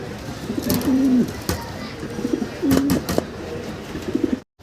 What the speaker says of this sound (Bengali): ভাইয়ের কাছে বিশাল বলের এক জোড়া পটার কবুতর আছে